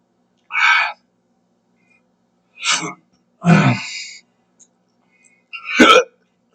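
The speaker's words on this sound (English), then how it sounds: "Severe hiccups." Severe hiccups brought on by eating jalapenos: four loud, abrupt hiccup spasms come close up at irregular intervals, each a short breathy gulp followed by silence.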